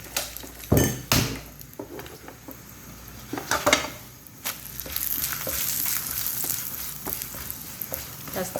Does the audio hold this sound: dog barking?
no